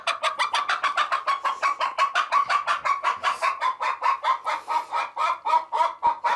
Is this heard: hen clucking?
yes